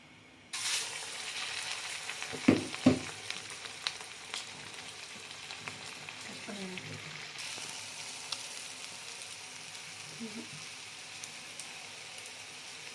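Sweet suzhiyam dumplings frying in hot oil, a steady crackling sizzle throughout with a few sharper pops and bubbling bursts as the batch goes in.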